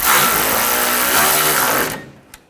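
A power tool whirs loudly and steadily for about two seconds as it tightens a bolt on the intake runner of a 2002–2006 Honda CR-V 2.4L engine, then stops abruptly with a small click after.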